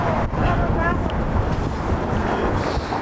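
Wind gusting along a Toronto street, a steady loud rushing roar buffeting the microphone throughout, with traffic-like rumble underneath.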